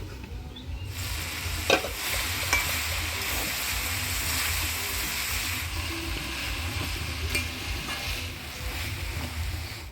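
Boal fish head fries with green peas and green chillies in a pan, a loud, steady, hissing sizzle that fills the scene, with a few scraping stir strokes near the start and middle.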